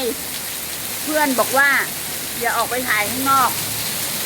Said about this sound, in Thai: ฝนตกหนักอีกแล้วค่ะ